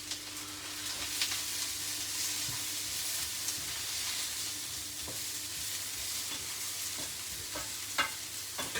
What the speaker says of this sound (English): kind of just trying to almost like char the edges of the veg